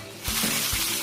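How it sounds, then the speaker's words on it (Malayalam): Mustard seeds, urad dal and curry leaves hit hot oil in a tempering for pumpkin chutney, bursting into a loud, steady sizzle after a brief quiet start, with a couple of soft pops and stirs. "കടുക്, ഉഴുന്ന്, കറിവേപ്പിലയാണ് താളിച്ചിരിക്കുന്നത്"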